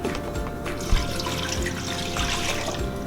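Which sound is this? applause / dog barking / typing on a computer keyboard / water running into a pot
water running into a pot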